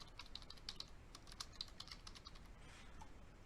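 Short run of rapid, light computer keyboard keystrokes entering a name, crisp clicks close by, steady and without talk.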